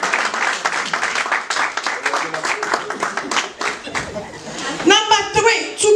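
Clapping and applause from a church congregation during a Bronx service, lively hand claps mixed with voices and someone talking, with singing or exclamations rising near the end.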